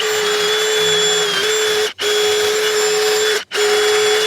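A power drill whines loudly and steadily as it bores into a hard oak beam during a garage build, cutting out briefly twice before resuming at the same pitch.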